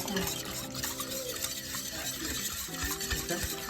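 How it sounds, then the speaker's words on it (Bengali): Crushed ginger, chilli and mint leaves are stirred together in water for pani puri, with wet swishing and scraping of a spoon against a bowl, close and fairly soft, over background music. "এবারে এটাকে ভালো করে আমরা মিশিয়ে নেব"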